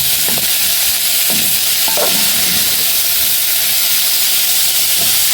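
Chopped tomatoes with green and red peppers fry in a pan, giving a steady close sizzle and hiss broken by a few soft clunks of stirring.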